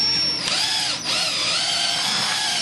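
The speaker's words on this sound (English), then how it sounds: "with a jiffy mixer can be utilized to mix the materials until they're uniform in color" A cordless drill spins a jiffy mixer blade through two-part resin materials, giving a continuous high whine with a couple of brief dips in speed, loud and close with no voices.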